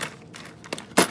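Live ammunition cartridges tipped out of a container, producing a short burst of bright metallic clinks and rattles that ends in a louder cascade of brass hitting together.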